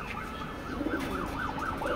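Female racing pigeons cooing in a loft, soft repeated warbling coos over a steady hum of background noise.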